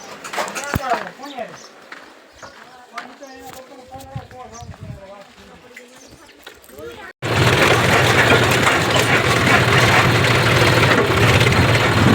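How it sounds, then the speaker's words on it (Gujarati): A tractor engine idling close by on a farm, a loud, steady low rumble that cuts in abruptly partway through and runs to the end, after a stretch of people talking with birds in the background. "ટ્રેક્ટર અંદર લઈ લઉં."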